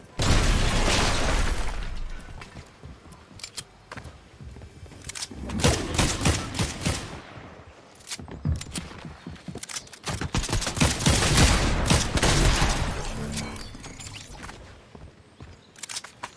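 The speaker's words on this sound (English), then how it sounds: "It's a breacher shotgun. You can destroy any build with one shot." Repeated loud blasts from a breacher shotgun in Fortnite, the video game, come in clusters with crunching and shattering as builds break apart, among scattered footsteps and game clatter.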